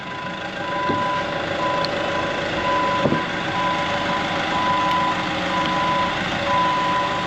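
A forklift's reversing alarm beeps in a steady repeating pattern over a low engine drone in a workshop, with a couple of sharp clanks partway through and no talking.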